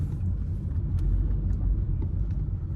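A BMW 118 rear-wheel-drive hatchback driving in sport mode gives a steady, close, low engine rumble that stays fairly even throughout, with no talking over it.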